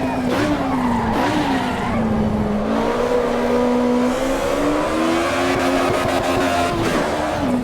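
A race car in the Assetto Corsa Evo video game braking and skidding, loud continuous tire squeal with a wavering pitch over engine drone, sustained throughout.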